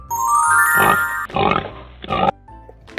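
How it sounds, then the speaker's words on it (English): A pig grunts and snorts in three loud, close bursts, each roughly half a second long, over a tonal musical backing with a melody that fades out early. "pig,"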